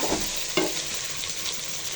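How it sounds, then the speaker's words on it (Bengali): Carrot, capsicum and cabbage are stir-fried in a hot pan for restaurant-style chicken fried rice, with close sizzling and a few sharp scraping stirs, and no voice. "গাজর, ক্যাপসিকাম, বাঁধাকপি নিয়েছি। 2-3 মিনিটের মতো রান্না করে নেব।"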